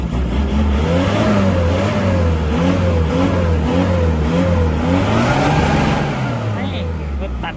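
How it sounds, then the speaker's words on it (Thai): A remapped Isuzu D-Max 2500 diesel pickup revs hard again and again, its engine note rising and falling in steady surges, loud and close, with someone talking over it. "รอบนี้นะครับเขาเร่งขาตึงๆเลยนะครับ"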